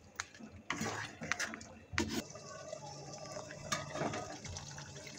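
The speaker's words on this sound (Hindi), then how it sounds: "मैं बस इन्ना कु पानी ऐड करके इहनू कवर करके पावांगी।" Water is poured into pumpkin curry cooking in a pan, with bursts of splashing and trickling amid clattering and sizzling kitchen sounds.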